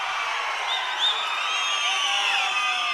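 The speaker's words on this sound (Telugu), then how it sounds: "గట్టిగా చప్పట్లు కూడా చెప్పండి" A large outdoor crowd at a political public meeting in Markapur for Chief Minister Chandrababu Naidu cheers and whoops in a steady, dense roar that fills the clip.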